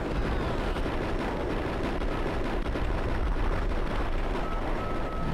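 Heavy gunfire in the video game Max Payne, a dense nonstop roar of shots and blasts that blur into a steady rumble throughout, with no talk.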